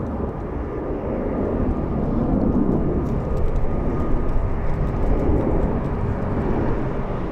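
A Flair Airlines Boeing 737 MAX 8 arriving at Los Angeles International Airport, its engine roar a steady, broadband rumble that swells slightly midway and holds loud throughout, with no voices.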